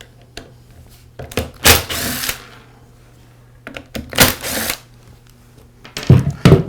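Screws being backed out of the black pad housing on a Porter Cable sander, heard as a few short bursts of close, loud driver whirring separated by small clicks and handling knocks, with no talking.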